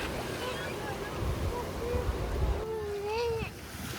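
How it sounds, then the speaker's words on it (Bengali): A tour boat pulls away across the sea in the Krabi islands of Thailand, its steady engine and water rush mixed with wind buffeting the microphone while people talk nearby. "এখান থেকে বোট ছেড়ে দিয়েছে"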